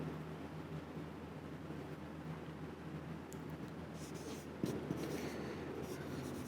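Writing during a math lecture on sets, faint pen or marker strokes against a steady hiss of background noise, with a slightly louder scratch near the end and no talking.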